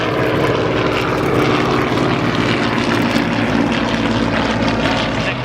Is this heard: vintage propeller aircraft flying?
yes